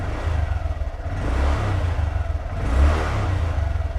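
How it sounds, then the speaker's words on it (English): A motorcycle engine revs up and drops back twice as the throttle is twisted, a close mid-pitched whirring growl that swells and eases with each twist, no voices. "You can hear the engine reacting as I twist the throttle."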